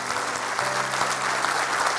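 Dense, steady applause from an audience at a Jeb Bush campaign event fills the whole moment, loud and unbroken with no voice over it.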